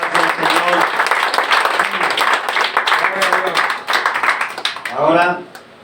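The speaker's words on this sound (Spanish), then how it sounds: "Den un aplauso al Señor" Congregation applause at a Spanish-language church sermon, a dense sustained wash of clapping that runs loud for several seconds, mixed with voices and cheers, fading near the end as a voice rises.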